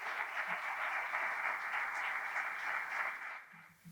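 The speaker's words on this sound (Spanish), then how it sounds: "vamos a recibir con el aplauso que se merece al alcalde de Alhaurín de la Torre, don Joaquín Villanova Rueda" An audience at a ceremony naming an official town chronicler applauds the mayor of Alhaurín de la Torre, a sustained, even wash of clapping that fades near the end.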